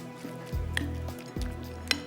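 Tikka boti frying in a pan in a home kitchen, a soft steady sizzle with a couple of thuds of stirring and a light clink of utensils.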